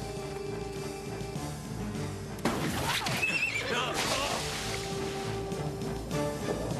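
A horse lets out a loud, shrill whinny partway through, close by, over a low background rumble with faint movement before and after.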